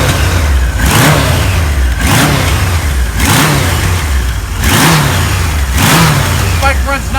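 A 1977 Kawasaki KZ1000 motorcycle engine runs loud and close, its multiple pipes roaring through repeated throttle blips that swell and fall back to idle every second or so.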